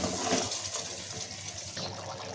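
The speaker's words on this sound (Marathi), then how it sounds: "त्याच्यामध्ये पाणी टाकून घेतलेलं आहे आणि ते पाणी टाकून मिक्स करते" Water pours steadily into a container, a soft continuous splashing stream that runs throughout with no voices.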